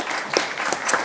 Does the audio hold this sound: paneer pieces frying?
no